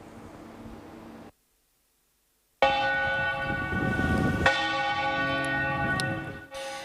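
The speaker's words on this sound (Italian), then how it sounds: "È il rintocco di mezzogiorno a segnare la vita del centro di Lusiana" A church bell in Lusiana, Veneto, tolls noon with long ringing overtones after a brief silence, its strokes sustained and resonant over a steady background hiss.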